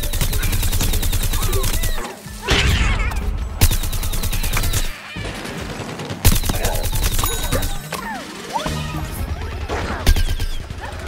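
Sunflower's rooted sunbeam ability in Plants vs Zombies Garden Warfare fires in loud, sustained rapid bursts with crackling impacts. Several separate bursts come in close succession, with brief pauses between them, amid busy 24-player battle noise.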